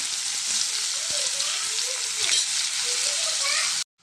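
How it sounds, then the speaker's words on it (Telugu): Onions fry in a pan with salt and turmeric, giving a steady close sizzle with faint stirring scrapes throughout before a sudden cutoff near the end. "ఉల్లిపాయలు బాగా ఫ్రై అయిపోయినాయండి"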